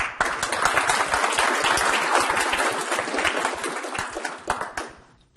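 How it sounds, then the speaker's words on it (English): Audience applause for a volunteer called up at a hypnosis demonstration, a dense, steady round of clapping that holds for about five seconds before tapering off, with no talking over it. "Give a nice round of applause."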